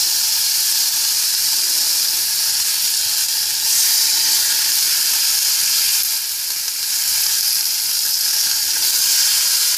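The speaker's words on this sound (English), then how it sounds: "Now the next part is you're gonna cook your bacon. It's thick cut I'm using." Thick-cut bacon frying in a pan, a loud steady sizzle with dense crackling hiss that holds without a break, no voices over it.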